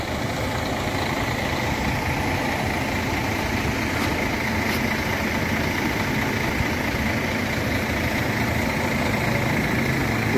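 Large Scania diesel engine on an Aceh mountain bus idling steadily, a deep continuous rumble with constant vibration, close and loud, with no talking.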